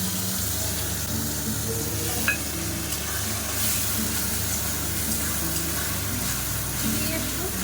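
Onion paste hits hot oil in a pan for chicken curry and sizzles steadily, with a bright continuous frying hiss and a few stirring scrapes, close and fairly loud.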